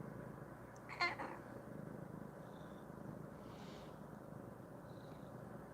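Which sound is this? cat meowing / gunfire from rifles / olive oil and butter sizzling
cat meowing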